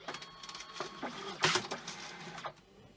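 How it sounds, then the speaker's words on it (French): A photo booth printer recalibrates after a ribbon reload, giving a faint mechanical whir with soft clicks and a brief louder burst of feed noise partway through, and no voices. "On re-rentre l'imprimante et elle va se recalibrer"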